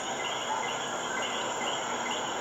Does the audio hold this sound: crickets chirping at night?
yes